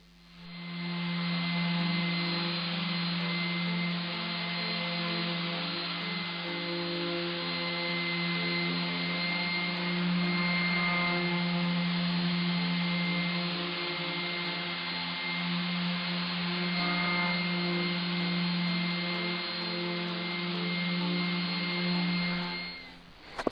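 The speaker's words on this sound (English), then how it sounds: "A quick rub with the random orbit sander, 240 grit, just on the panels to finish it off before we start glue up." A random orbit sander fitted with 240-grit paper gives a steady, continuous electric whine and hum as it finish-sands wardrobe panels, running loud and unbroken for over twenty seconds with no talk.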